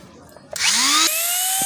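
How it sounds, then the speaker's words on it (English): Grinder cutting away an excess thread coil on a banjo bolt for a stripped-thread repair, spinning up sharply then holding a steady high whine as it bites into the metal, loud and close. "So we're going to use a grinder to remove this excessive iridium coil"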